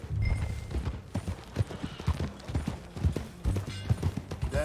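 Horse hooves clip-clop in an irregular trotting rhythm, fairly close, with a few softer gaps between bursts of steps, in the video game Red Dead Redemption II.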